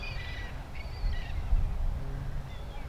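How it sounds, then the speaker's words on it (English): Seagulls calling in a rough city neighborhood, a few harsh squawking cries scattered over low traffic rumble, moderately near. "More for all these seagulls."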